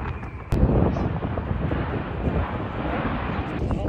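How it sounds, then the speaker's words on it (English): A plane at a Blue Angels air show roars as a broad, loud rumble, starting with a sudden jump in loudness and holding steady across the clip, with wind buffeting the microphone. "Oh, look, a plane."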